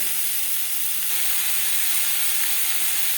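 Mango pieces coated in cornflour fry lightly in hot oil for a chutney, giving a steady, loud, dense sizzle that hisses evenly throughout with no pauses.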